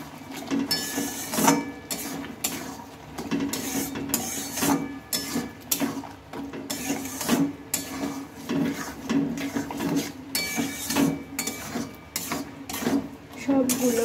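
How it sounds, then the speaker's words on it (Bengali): Mung dal and pointed gourd being mixed by hand in a bowl, a steady run of rough rubbing and scraping strokes repeating close up for the whole stretch. "এবার একটু আমি ভালোভাবে এটাকে মিশিয়ে নেব।"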